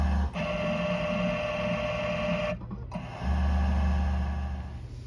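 A Leica VT1000-S vibratome runs on its continuous cut setting, giving a steady close mechanical hum and whir that briefly drops out partway through before resuming, with no voices.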